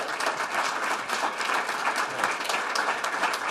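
Audience applauding at a policy conference, a dense, steady wash of clapping from a large crowd that fills the whole stretch without letting up.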